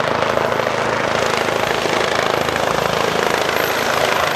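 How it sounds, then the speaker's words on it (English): A helicopter flying overhead, its loud, steady rotor and engine roar filling the clip continuously and close by, with no voices. "Nah, I'm in a helicopter today."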